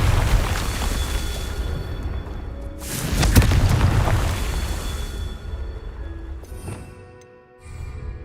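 A Confringo blasting spell goes off in Hogwarts Legacy, a loud burst and roaring blast over a dense rumbling background that swells in the middle and fades toward the end.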